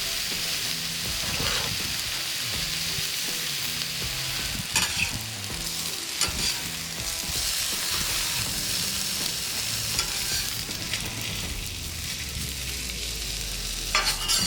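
Partially cooked Trader Joe's bacon fries on a hot griddle with a steady, close sizzle and crackle throughout. Occasional scrapes and taps of a utensil sound over it.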